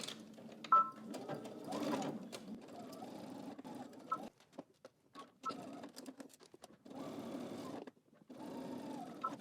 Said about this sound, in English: we're going to stitch our side seams while we're at the machine